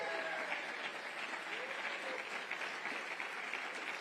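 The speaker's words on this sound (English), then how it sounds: "give the man to my left who just introduced me a well-deserved standing ovation and round of applause" Audience at a summit gives a sustained round of applause and standing ovation, dense steady clapping filling the room throughout with a faint crowd murmur beneath.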